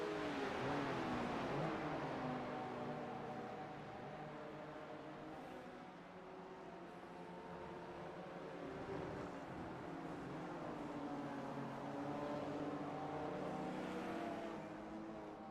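Race cars in a racing video game lapping the Interlagos circuit, a steady blended engine drone with overlapping pitches rising and falling as cars pass and shift, loud and continuous with no voices.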